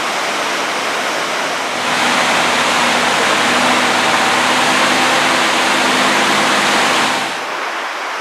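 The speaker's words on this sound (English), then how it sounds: "And the waterfall there." A waterfall pours below a glacier, its steady rushing roar swelling louder partway through and dropping back near the end, with a low engine-like rumble beneath.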